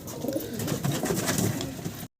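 Healthy farm pigeons coo continuously in a dense, overlapping murmur of low throaty calls, fairly close and steady until the sound cuts off abruptly.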